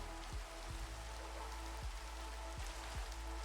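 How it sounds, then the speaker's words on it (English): Steady rain in a farming video game, a constant soft hiss of falling drops with occasional low thumps, no voices. "When did it start raining?"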